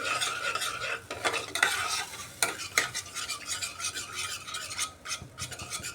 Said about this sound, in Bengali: দই দিয়ে আর একটু সময় ভালোভাবে মশলাটাকে কষাতে হবে